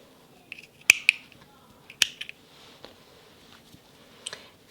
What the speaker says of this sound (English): and cut your yarn